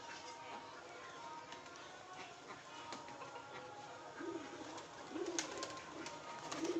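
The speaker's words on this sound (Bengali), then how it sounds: "এখন আমাদের পায়রাগুলোকে সব ছেড়ে দিয়েছি, খাবার খাচ্ছে সব পায়রাগুলো" Pigeons feeding together in a loft make faint, scattered coos and light rustling that build toward the end, heard against a constant background hiss.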